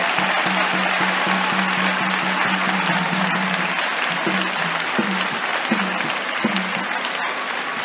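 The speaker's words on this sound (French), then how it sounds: "je voudrais que vous accueilliez cette nouvelle par un tonnerre d'applaudissements" Applause from a large crowd gathered in a stadium for a religious address, steady and loud for the whole stretch, with a faint voice droning underneath and occasional sharper claps.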